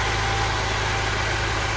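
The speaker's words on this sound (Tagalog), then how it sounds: "Ayan, umandar na mga sir. Umandar ang Nissan Sipiro ni sir." A Nissan Cefiro's engine runs at a steady, close idle with a low, even rumble after a hard-starting problem was fixed.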